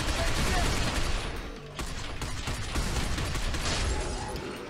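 Gunfire in the Binary Domain video game comes as dense, continuous bursts that stay loud for the whole stretch and fade slightly partway through.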